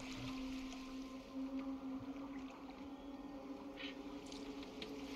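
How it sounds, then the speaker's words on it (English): A boat moving across water in the video game Assassin's Creed Valhalla, a steady, continuous wash of water and hull noise with a low droning hum held at an even level throughout. "Are you well enough to steer this boat?"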